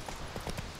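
Quick horse hoof clip-clops in the video game The Witcher 3: Wild Hunt, several in a brief trot, over a steady background hum.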